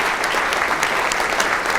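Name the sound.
applause for symposium volunteers and staff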